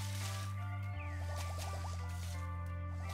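Watering crops in a farming video game gives faint splashing, dripping squelches over a steady low hum, with a short burst of soft trickling in the middle of the three seconds.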